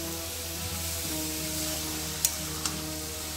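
Grated carrots frying in plenty of ghee for gajar halwa, a steady close sizzle with a couple of faint stirring clicks.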